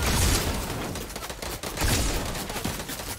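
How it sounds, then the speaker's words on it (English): An AR rifle fires in an online shooter game in a dense, rapid volley of loud, close shots that run together with little pause. "I'm gonna try this first bullet of the AR again."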